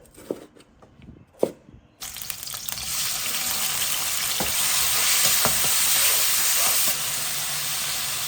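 Low-calorie soup cooking in a pot, with a few soft clinks and taps at first, then a steady loud sizzle and bubbling hiss that holds until near the end and eases slightly.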